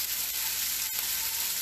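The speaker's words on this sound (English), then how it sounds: "sometimes when the crackle of the frying happens, it cuts the sound" Steak fries in a hot pan, a steady close sizzle with faint crackles and one brief dropout in the sound partway through.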